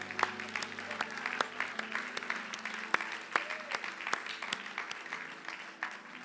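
Congregation in a church service applauding and cheering in praise of God, steady dense clapping with scattered sharp claps and crowd voices throughout, fairly close and sustained.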